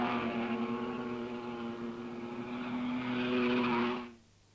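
Vintage sports cars racing at Gamston circuit, a sustained engine drone with a strong steady pitch that swells and then cuts away as the cars pass.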